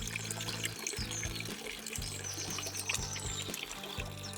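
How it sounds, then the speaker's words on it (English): Water trickling and pouring in a garden pond water feature in early spring, a steady soft splashing flow heard faintly alone, with a low repeating hum underneath. "My water feature is working very well"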